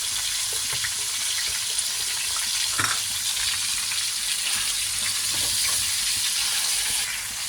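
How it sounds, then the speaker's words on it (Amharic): Fish frying in a pan with spices, garlic and ginger, a steady bright sizzle holding throughout with a few spatters and stirring clicks, close and fairly loud with no voices. "በቅመሞቹ በነጭ ሽንኩርት በዝንጅብሉ ጥብስ እናደርገውና"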